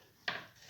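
Two crisp knife chops on a cutting board while preparing ingredients for Riz du Senyoret, close and distinct, spaced about half a second apart.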